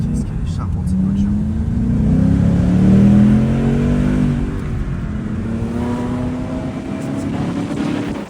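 A sports car accelerates along a road, its close engine drone rising and easing in pitch for several seconds, with wind buffeting in the background.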